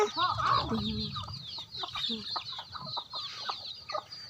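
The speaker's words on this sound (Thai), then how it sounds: "นี่นี่เนี่ยลูกไก่เนี่ย" High, rapid peeping of chicks chirps continuously close by, with some lower clucking early on.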